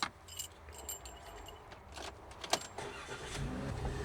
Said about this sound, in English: Can you start the van?